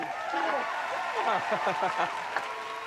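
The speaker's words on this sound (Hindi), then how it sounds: "तो जोरदार तालियों से स्वागत करें हमारे पहले खिलाड़ी को, हैंडसम टीकाराम" A studio audience claps and cheers loudly to welcome the first contestant of a comedy-show game, a steady dense wash of applause with crowd voices mixed in throughout.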